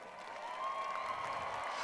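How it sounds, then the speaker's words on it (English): High school graduation audience applauding seniors, a steady distant wash of many hands clapping that holds evenly throughout, with faint crowd murmur. "Please give them a round of applause"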